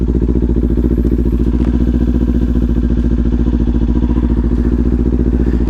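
A motorcycle ride captured from a helmet-mounted GoPro 10, with a loud, steady engine drone and dense rhythmic pulsing alongside constant wind rush, close and continuous throughout, no talking.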